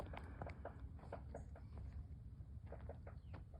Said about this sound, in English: Sounds like a woodpecker over there somewhere.